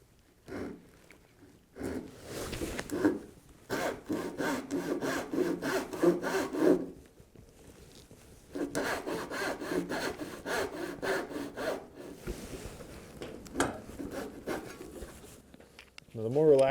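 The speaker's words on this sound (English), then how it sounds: "And then you come back and cut the other ones." Hand saw cutting dovetail pins in wood, with steady back-and-forth rasping strokes in two long bursts separated by a pause, close and fairly quiet.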